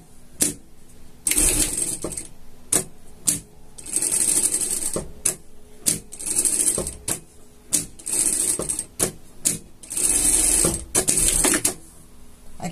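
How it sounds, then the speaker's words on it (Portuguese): Sewing machine stitching a seam on fabric for a dog costume, heard as repeated short mechanical bursts of running stitches separated by brief pauses, close and fairly loud, with no talking. "Ó, vamos passar uma costura aqui"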